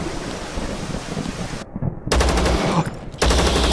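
Bursts of automatic gunfire in the video game Zero Sievert, loud rapid rattles broken by a brief silence and then resuming in two further volleys.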